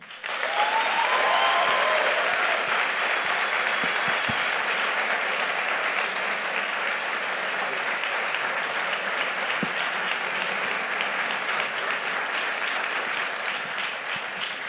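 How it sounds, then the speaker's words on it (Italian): An audience bursts into sustained applause welcoming guest Marco Cappato onto a stage show, a dense, steady wash of clapping that holds strong for about fifteen seconds with no voices over it. "Signore e signori, per favore un grande applauso per Marco Cappato"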